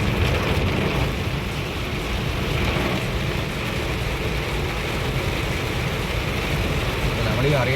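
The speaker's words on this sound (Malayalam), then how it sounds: "നല്ല മഴയാണ്" Heavy rain drums steadily on a vehicle driving at night along a road from Haripad to Thiruvananthapuram, with constant broadband roar and road noise, and a voice speaks over it.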